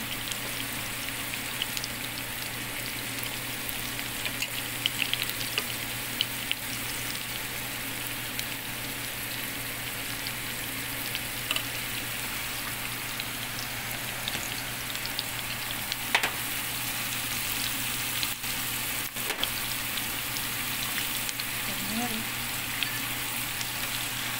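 Avocado goes into a hot pan with a steady oil sizzle and frying crackle, light stirring scrapes and taps scattered across the long stretch, no talking.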